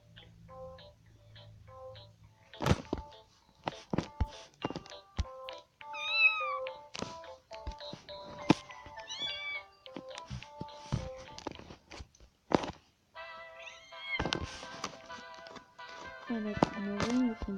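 Two pet cats meow again and again indoors, the calls short and fairly close and mixed with scattered ticks and clicks of handling. Between the meows there are quieter stretches with light rustling.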